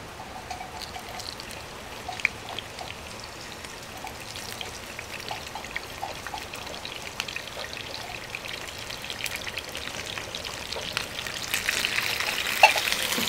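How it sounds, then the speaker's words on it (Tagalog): Fish frying in oil, with a soft continuous sizzle peppered by sharp crackling pops and spatters that grow denser and louder toward the end. "Tumitilamsek. Baka dapat kong takpan. Para hindi masyadong magtilamsek."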